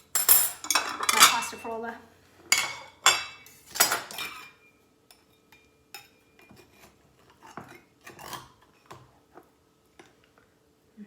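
Cutlery scraping and clinking on a plate while slicing a Libby's pumpkin pie with a cooked gluten-free crust, loud sharp clanks at first, then softer scattered ticks and taps, with brief speech.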